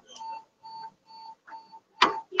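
An alarm beeps in steady repeated tones, about five short bursts in a row, fairly loud and clear with nobody talking, ending in a sharper burst of noise.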